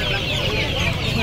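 Loud, close gobbling and clucking from turkeys at a market, dense and continuous over a noisy background.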